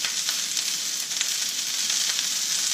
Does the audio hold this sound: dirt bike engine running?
no